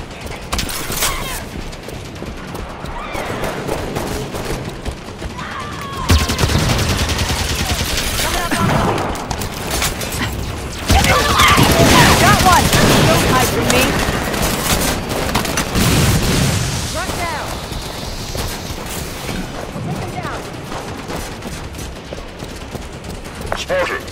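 Video game combat in Halo 5: Guardians as cannons are destroyed: dense bursts of gunfire, heavy booms and mechanical clatter swell and fade in loud waves, with game voices talking over the action.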